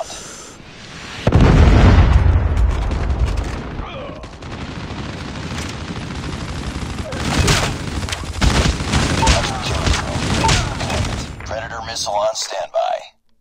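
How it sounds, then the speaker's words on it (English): Predator missile strike explosions in the mobile shooter Call of Duty Mobile: a loud boom lands early, then a sustained rumble of blasts and crackling gunfire-like bursts that fades near the end, with game voice prompts mixed in. "Hostile predator missile inbound."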